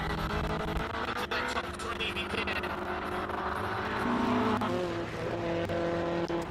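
Datsun GX Coupe racing up a hill climb course, a continuous engine roar with shifting pitch and some tire noise, mixed under crowd and commentator chatter throughout.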